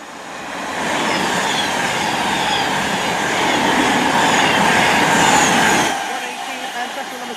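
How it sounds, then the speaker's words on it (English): A Class 221 Voyager diesel train bound for London Euston passes on the West Coast Main Line at South Kenton, a steady loud rumble of wheels and engine for about six seconds before dropping away to quieter background noise. "And 221118 heading to London Euston from Holyhead and Chester, probably."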